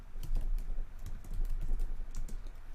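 Computer keyboard typing code, a fast continuous run of close, crisp key clicks with uneven rhythm and no one talking.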